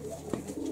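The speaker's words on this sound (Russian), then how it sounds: "Ну давайте теперь голубят сюда." Young pigeons coo softly inside a dovecote. There are a few faint, low murmurs over a quiet background, with one slightly louder coo near the middle.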